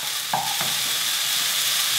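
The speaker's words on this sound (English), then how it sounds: "Stirring it as we do. Make sure it doesn't burn on the side." Softening vegetables frying in a pan, stirred so they don't catch on the side, give a steady close sizzle with a couple of soft scraping stirs near the start, no voices.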